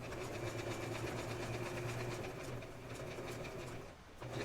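A sewing machine stitching a seam on an 18-inch doll nightgown, a continuous rhythmic mechanical whir at fairly close range that dips briefly near the end before resuming.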